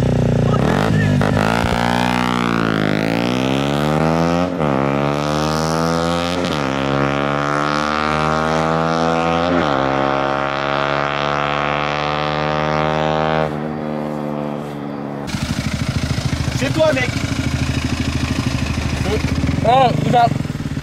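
BMW and KTM motorcycles launching at the start of a race, engines revving hard through rising gear changes, loud and close, with a rougher burst near the end; people talk around them.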